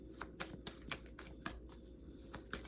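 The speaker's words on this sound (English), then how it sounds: "I had to put it back in the deck to shuffle." Tarot cards shuffled by hand close up, quiet repeated crisp riffling bursts at a loose, uneven rhythm, alone with no talk.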